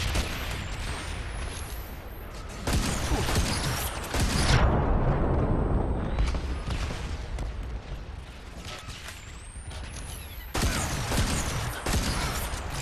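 Heavy weapon fire and mechanical roar in the sci-fi game Starhawk, loud sustained blasts with whining high sweeps, easing into a quieter stretch mid-clip before another burst.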